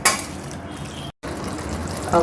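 Water pours steadily into a pressure cooker with a broad rushing splash, brief pause midway, then continues; close and fairly loud.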